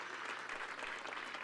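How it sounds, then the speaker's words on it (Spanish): A church congregation applauds on a special Easter Sunday service, a soft, even patter of many hands heard faintly and steadily throughout. "Un aplauso a Dios por este domingo especial"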